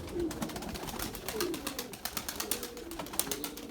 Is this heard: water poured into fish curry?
no